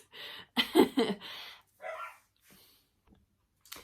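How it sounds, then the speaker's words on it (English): A dog barks several times in a quick cluster, then gives a couple of softer, higher yips and a faint whine, fairly distant and alone. "Sorry, the dog's barking."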